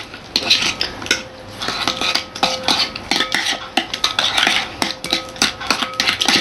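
A utensil stirs and scrapes through cake batter in a bowl as margarine is worked in to melt for an apple shortcrust tart, producing rapid, irregular clinks and scrapes close by with no talking.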